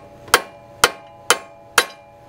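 Hammer strikes on a punch, staking the axle nut into the wheel flange on a 2005 Toyota Sienna during a driver's side axle replacement: four loud, sharp metallic blows, evenly spaced about half a second apart, close and alone.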